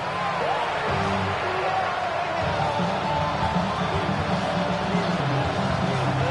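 A stadium crowd in an EA Sports football video game roars steadily at a third-and-inches snap late in the game, a dense wash of distant cheering and whoops with faint voices inside it.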